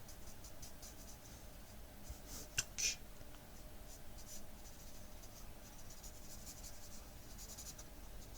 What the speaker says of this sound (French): vous entendez peut-être du coup le feutre qui glisse sur le papier